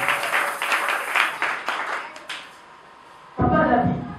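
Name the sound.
congregation applauding and cheering in church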